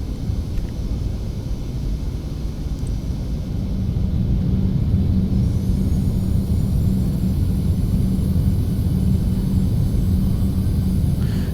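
Boeing 717 in FSX flight simulator rolling out on the runway after landing, a steady loud engine and airframe rumble that swells slightly partway through as reverse thrust builds, continuous with no talk.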